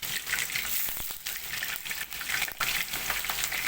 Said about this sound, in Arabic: وانا هنا بحمر البطاطس